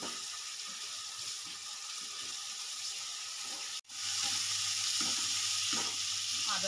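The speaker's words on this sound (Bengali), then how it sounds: "এবার আমি ভালো করে 3 থেকে 4 মিনিট ভালো করে আমি কষিয়ে নেব।" Ginger garlic paste sautéing in a pan for chicken rezala gives a soft, continuous hiss and sizzle, briefly cut out midway, then resuming slightly louder, with no voices.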